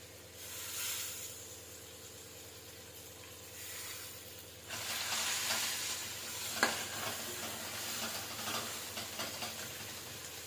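Tomatoes for vangi bath fry in a pan with a steady hiss and sizzle. It grows louder about halfway through, and a few sharp spits and stirring noises follow. The sound is close, with no talking.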